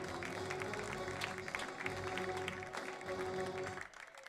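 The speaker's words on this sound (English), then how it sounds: "Let's hear one more round of applause" At a high school baseball game, a crowd applauds a senior player during an outdoor ceremony. The applause is distant and diffuse, a dense wash of clapping under a steady hum and crowd noise that fades out near the end.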